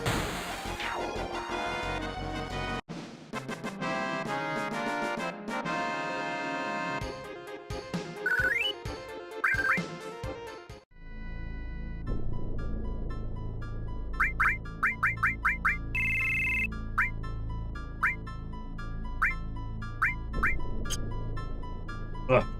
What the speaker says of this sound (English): Ugh, phone's ringing.